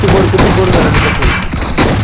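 Rapid bursts of gunfire in PUBG on the Sanhok map, dense and loud throughout, with a player's voice talking over the shots.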